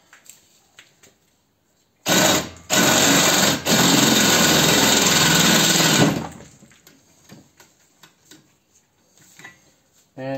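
A drill bites into a large air conditioner compressor being pulled apart for scrap copper, giving a loud continuous whine for about four seconds between quiet handling clatter.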